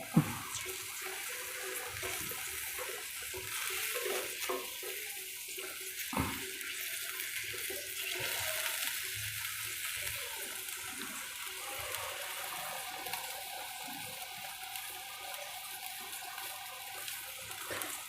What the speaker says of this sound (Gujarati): થોડુંક પાણીને ઉકાળી લેવાનું